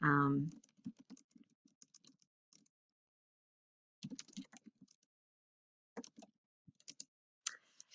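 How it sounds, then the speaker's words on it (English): Typing a sentence on a computer keyboard in short bursts of quick clicking keystrokes separated by pauses; a brief voice is heard at the start. "I'm going to type a sentence."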